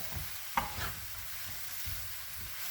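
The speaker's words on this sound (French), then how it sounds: "On remue bien vraiment pour être sûr que chaque petit morceau d'aubergine soit bien recouvert du mélange de nos épices" Aubergine pieces stirred through a spice mixture in a pan for an aubergine curry: soft scraping strokes and a gentle sizzle, quiet and close, with no voices.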